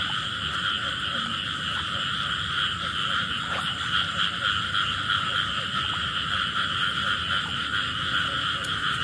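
Many frogs croak together on a rainy night at the start of the wet season during mating time, a dense, continuous chorus that stays steady throughout.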